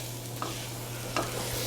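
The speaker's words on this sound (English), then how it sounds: "I have it on a medium heat, so I'm going to sweat the onions, get them nice and soft." Onions, garlic and seasonings sweat in a pan over medium heat, giving a continuous soft sizzle over a low hum, with two brief stirring scrapes.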